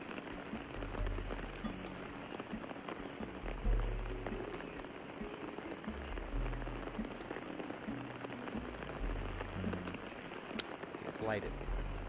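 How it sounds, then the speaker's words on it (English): Rain falls steadily in the survival video game Green Hell, a dense, even patter on surfaces that holds at moderate level throughout. "Problem is, it's raining"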